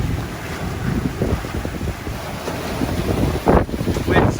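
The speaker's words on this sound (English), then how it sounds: "Wind's a constant 26 knots right now" Strong 26-knot wind roars across the microphone on a double-reefed sailboat crossing open water toward the Abacos, a constant close rushing buffet with water wash and surges near the end.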